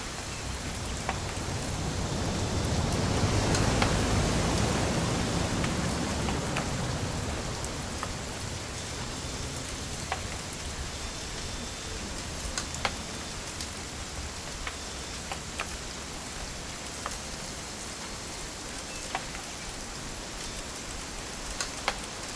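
Steady rain falls throughout a scene in the video game What Remains of Edith Finch, a soft continuous patter with scattered drop ticks that swells briefly early on, with no voices.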